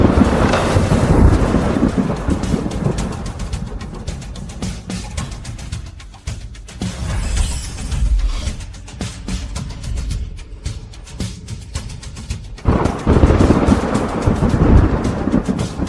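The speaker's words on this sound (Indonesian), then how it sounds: "hujan, Yang Mulia. Benar-benar hujan." Heavy rain pours in a thunderstorm, with deep rumbling thunder rolling through a dense, loud wash of rainfall and gusts, swelling again near the end; no voices.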